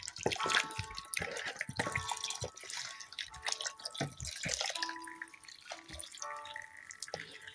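Water drips and trickles into potted sweet potato slips as they are watered, giving scattered irregular splashes and taps at close range, quiet and without talk.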